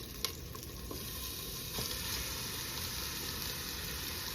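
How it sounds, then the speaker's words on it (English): Meat sizzles and fries steadily in a hot pan for pasta meat sauce, a constant dense crackle with a couple of faint clicks and no talking. "now we add our meat"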